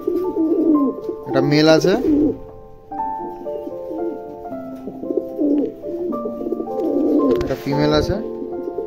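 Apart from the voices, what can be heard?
Black Siraj fancy pigeons cooing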